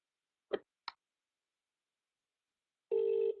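Telephone call being placed: two short clicks or key presses in near silence, then a steady tone sounding at the end.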